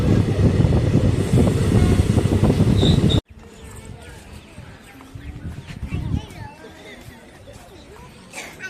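A train at Kallikudi railway station rumbles loudly and heavily for about three seconds, then the sound drops abruptly to a quieter background with a voice talking and faint movement noises.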